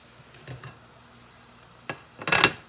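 A cast iron skillet of cooking eggs is shifted across a stovetop, giving a short scrape and clatter near the end after a quiet stretch with a few light clinks.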